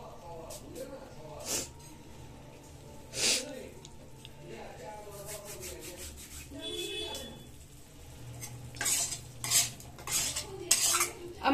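A spoon stirs a pot of aloo dum with vinegar just added, giving scattered scraping and clinking metal contacts at irregular intervals, louder toward the end, over a low steady background hum.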